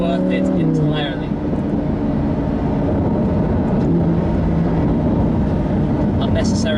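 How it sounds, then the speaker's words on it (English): Engine of a Lamborghini Huracan LP610-4 rising and falling in pitch as it revs through downshifts, a steady loud droning roar heard from inside the car, with a voice talking over it. "Unnecessary downshifts"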